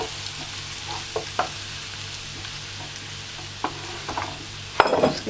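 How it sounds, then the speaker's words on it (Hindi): Garlic ginger paste being stirred in a pan while cooking mushroom pulao: a soft, steady sizzle with occasional scrapes of the spoon and a louder stirring clatter near the end, no voices. "गार्लिक जिंजर पेस्ट आप थोड़ी सी डाल दें और अच्छी तरह से मिक्स कर लें उसको।"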